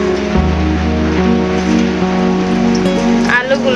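Cut potatoes fry in hot oil, a dense, steady crackle and sizzle close by, with a low hum underneath throughout.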